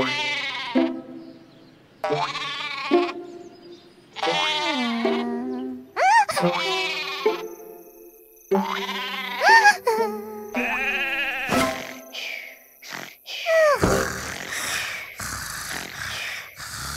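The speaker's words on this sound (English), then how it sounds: "Sherbert counted 49 sheep and finally fell asleep." Cartoon sheep in the kids' counting app Endless Numbers bleat again and again in short, wavering cries, some with grunts and gasps, loud and close with brief gaps.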